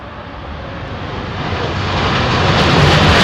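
A British Airways airliner at Heathrow roars past as a broad, loud engine rush that swells steadily louder, with no talk over it.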